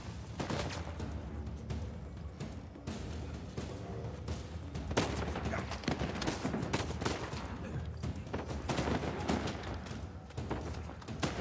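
Gunfire rattles through a firefight in the video game Uncharted 4, dense rapid bursts and booming shots continuing without pause throughout.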